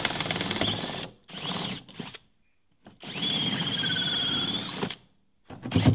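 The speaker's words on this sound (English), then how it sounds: "we might do the plastic bit with this funny little drill" A small, funny little power drill bores into plastic while a fridge is being turned into a top-bar beehive. It whines loudly in several bursts, the longest about two seconds, with quiet gaps between and a thin rising squeal as the bit bites.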